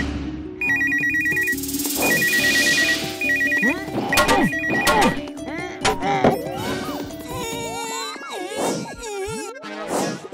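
A telephone rings repeatedly in a cartoon scene after a number is dialed, the ringtone pattern loud and steady amid music and sound effects, with thumps and a crash-like hit near the end.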